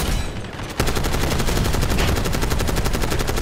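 Rapid automatic gunfire in Call of Duty, starting abruptly under a second in and continuing as a steady, loud, fast rattle to the end.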